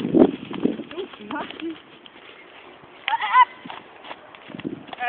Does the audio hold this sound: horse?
yes